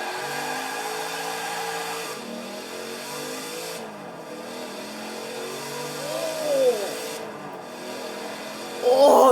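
A 1990s Corvette accelerates in the video game Forza Horizon 4. The engine holds a steady, droning note that climbs through brief gear changes, ending with a sharp rising burst, loud and up close.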